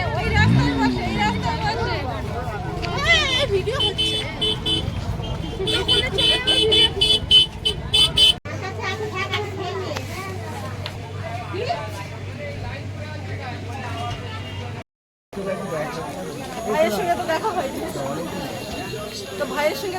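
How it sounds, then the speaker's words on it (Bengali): Busy roadside market lining both sides of a street, a dense crowd chattering continuously over passing car traffic and occasional horn toots, loud and close, with a brief dropout near the end. "এখানে বাইরে কিন্তু একটা বাজার বসে রাস্তা দুপাশ ধরে"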